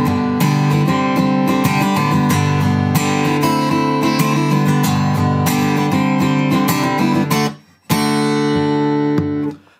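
Acoustic guitar in standard tuning plays the intro of a song as bright, continuous strummed and picked chords, close and loud, with a brief break before playing resumes.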